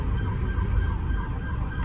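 Emergency vehicle sirens on a Los Angeles city street, a continuous wailing tone heard from inside a moving vehicle with low road rumble beneath and no talking.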